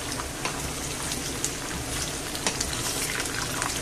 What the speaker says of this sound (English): fry them until they're soft